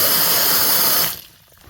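A lake water filter being flushed out gives a loud, hissing rush of spraying water that runs steadily for about a second, then cuts off abruptly to quiet.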